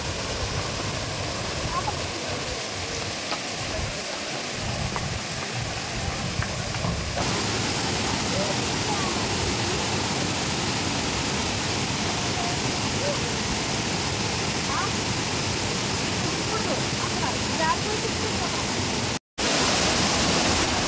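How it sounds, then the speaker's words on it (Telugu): Kothapalli waterfall seen up close, a steady loud roar of rushing water filling the whole scene without pause, briefly cut out near the end. "చూడండి, చాలా అంటే చాలా బ్యూటిఫుల్గా ఉందండి జలపాతము."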